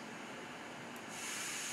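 Dark noise setting from the iPhone 14 background sounds, a steady hiss-like broadband noise that brightens and swells slightly partway through, heard alone.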